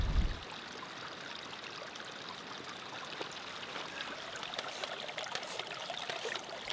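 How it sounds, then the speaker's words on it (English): Flowing water of a small stream beside a path through golden meadows in the Grayson Highlands on the Appalachian Trail, a steady close trickle and babble running throughout with no voices. "we headed along a path to collect some water from a nearby stream"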